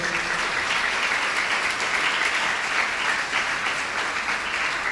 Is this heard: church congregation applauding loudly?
yes